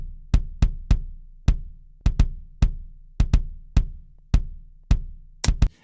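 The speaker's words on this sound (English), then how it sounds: "And then we got a kick sample, which sounds like this." Sampled kick drum from a song mix, clean, tight thumps with sharp clicky attacks, some in quick doubled pairs, loud, isolated and dry against silence.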